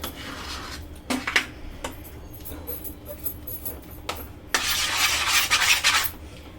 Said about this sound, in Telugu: బెల్లం కరిగిన తర్వాత పప్పు వేసి అలా కలుపుతూ ఉంటేనే